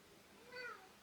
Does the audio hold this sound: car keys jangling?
no